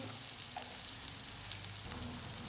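Vegetable pasta sauce ingredients with pepper sizzle softly in a pan as they are mixed, a faint, even crackle with light stirring scrapes.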